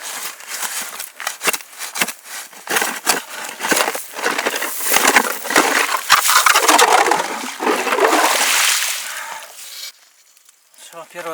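A hand or power auger bores a hole through thick first ice on a river during ice fishing, giving a loud, continuous grinding scrape with rhythmic bursts that fades out near the end.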